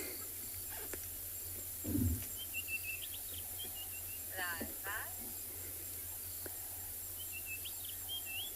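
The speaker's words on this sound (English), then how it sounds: "And the robins are starting their evening call." Robins give their evening calls at dusk on an African safari: a few faint, distant chirping phrases over a steady insect drone, with a brief low thump early on.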